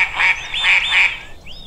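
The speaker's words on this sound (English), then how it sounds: "Who can make a quacking noise?" Cartoon ducklings give a quick series of about four bright, nasal quacks in close succession, clear and near, ending with a short rising squeak, with no talk over them.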